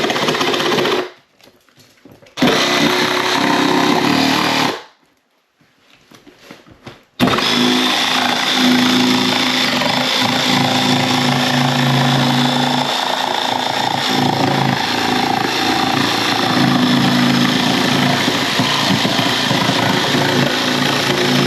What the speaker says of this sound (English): I am going to use the jigsaw to cut the hole.